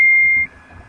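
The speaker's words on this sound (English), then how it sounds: "Sorry, that was my phone." A mobile phone gives a single clear electronic beep, a steady high tone lasting about half a second, then cuts to a quiet room.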